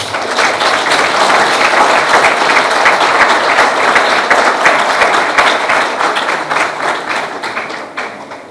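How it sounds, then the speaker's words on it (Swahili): An audience at a Simba club event breaks into loud, sustained applause, with dense clapping from many hands that holds steady for several seconds before starting to taper. "hebu tupate makofi mengi kwa Jairut."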